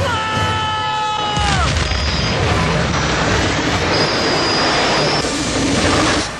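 A steam train's loud, rushing roar with a long high whistle tone near the start, continuous and heavy throughout with booming rumble.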